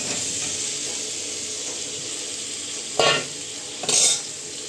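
Fried potatoes are stirred into a sizzling, well-cooked spice masala, with a steady frying hiss and two sharp bursts of spatula scraping and clatter near the end.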